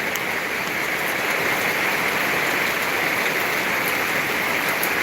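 Steady, dense rain pours down outdoors in a scenic spot, a loud continuous hiss filling the whole clip without pause and with no voices.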